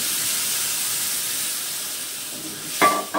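Water poured into a pan of fried potatoes sends up a steady, loud sizzling hiss, and a brief clatter sounds near the end.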